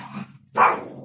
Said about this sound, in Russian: Собака у меня сегодня прям какая-то говчунистая.